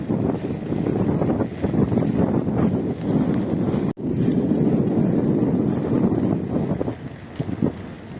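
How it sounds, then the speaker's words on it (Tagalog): Rough, blustery headwind while cycling buffets the microphone continuously, loud low rumbling gusts with a brief dropout midway. "Salubong sa hangin."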